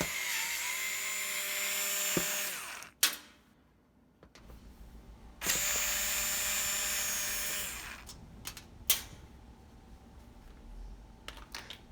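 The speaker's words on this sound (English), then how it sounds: "take out the screws" A small powered screwdriver whirs in two long bursts while screws come out of a thermal fuse, close and moderately loud, with clicks and handling knocks between the runs.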